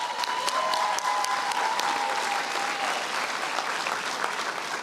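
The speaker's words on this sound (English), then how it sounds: "Please rise as we applaud you for your success" Graduation audience at South Eastern College applauds Alpha Beta Kappa Honor Society candidates, a dense, steady wash of many hands clapping that stays loud and even throughout, with a faint whistle-like tone threading through early on.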